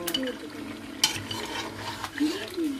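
Chicken for a Baloch chicken dish sizzles and fries in a pan while being stirred, soft scraping and clinks over a steady hiss, with someone talking over it.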